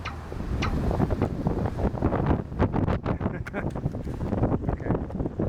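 Wind gusting outdoors as a storm approaches, buffeting the microphone with loud, uneven rumbling blasts that rise and fall throughout.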